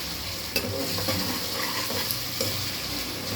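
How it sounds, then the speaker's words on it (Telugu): Ginger garlic paste sizzling in hot oil for biryani while being stirred, a steady close frying hiss with light scraping clicks from the spoon. "అల్లం వెల్లుల్లి పేస్ట్ వేస్తున్నాను."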